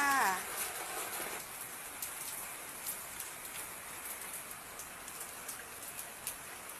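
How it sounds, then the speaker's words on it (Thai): Steady rain falling in Si Bun Rueang district, Thailand, on a Saturday morning, a soft continuous hiss with scattered drops, with a brief voice at the very start. "เวลานี้ฝนตกนะคะ"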